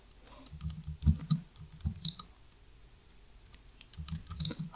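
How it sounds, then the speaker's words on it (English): Keys clatter on a computer keyboard while text is entered into a Laravel Statamic CMS page editor: irregular bursts of close, crisp clicks with short pauses between them. "Type something here."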